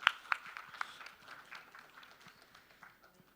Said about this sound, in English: Applause for sir.